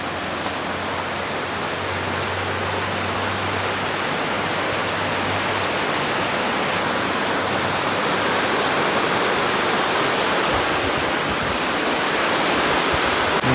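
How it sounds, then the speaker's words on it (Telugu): Water from Bogatha waterfall pours down and flows onward below in a steady, dense rushing roar that holds constant and close throughout, with a faint low hum underneath. "అక్కడ పైనుండి పడ్డ వాటర్ ఫాల్స్ మొత్తం కింద నుండి ఇట్లా పోతున్నాయి"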